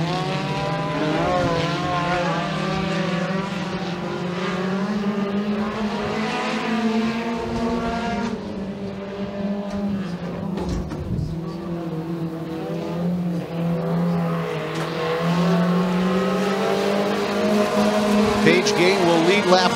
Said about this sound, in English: the green flag is out, and Paige Gayton will come out to a command